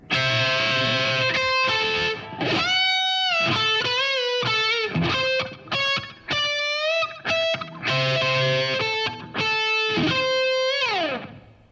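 A distorted electric guitar plays a solo phrase from an outro solo, with bends, sustained notes and quick runs, loud and close, with no voice over it.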